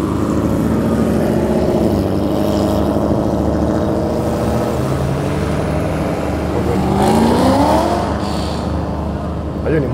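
A Mazda car engine revs at a car show, a loud, near, continuous engine drone with rising and falling pitch sweeps toward the end, while people talk over it.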